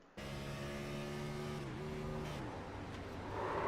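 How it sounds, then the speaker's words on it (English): Race car engine in a racing video game holding a steady high-pitched drone, then a missed gear shift drops the note abruptly partway through, followed by rougher, lower engine noise. "You can hear the change in the gear in that car."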